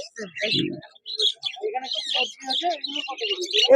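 Yellow Fischer's lovebirds at the Dakshineswar bird market chirp in quick, shrill bursts close by, with a seller talking over the birds throughout.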